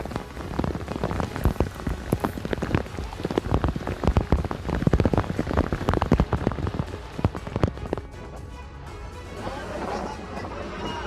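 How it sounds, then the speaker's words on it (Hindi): Heavy rain falling in Delhi, a dense, steady roar of drops pounding surfaces, loud and continuous throughout, easing slightly toward the end. "दिल्ली के कई इलाकों में जोरदार बारिश। भारी बारिश के बाद जगह जगह जल भराव।"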